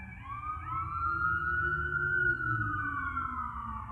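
Police sirens wail continuously at night, a steady rising and falling tone that stays fairly loud and close throughout as the vehicle circles nearby, with low traffic rumble underneath.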